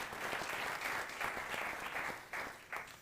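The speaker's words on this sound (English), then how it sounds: "McElvoy, our executive editor for Politico, so please give them a warm round of applause" An audience applauds steadily for guests on stage at a political interview event, a dense, close wash of clapping lasting the whole stretch with a few brief dips near the end.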